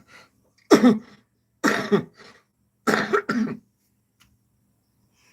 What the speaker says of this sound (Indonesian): Mohon maaf, saya masih sering batuk.